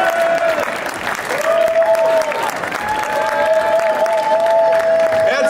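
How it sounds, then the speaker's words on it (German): A crowd applauds and cheers for Marvin Berg at an award presentation at the Großer Preis der Stadt Trier, steady clapping under a tonal whistle-like sound and voices. "Ein großen Applaus für Marvin Berg."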